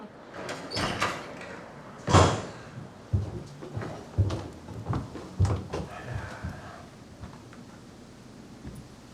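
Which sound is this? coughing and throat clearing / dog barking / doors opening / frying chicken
doors opening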